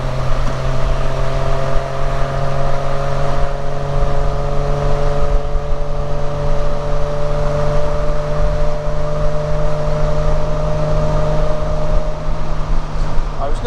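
A 1967 Triumph Vitesse engine pulls in third gear on a country road, a steady droning whine that slowly shifts pitch over more than ten seconds and drops away near the end, loud inside the car.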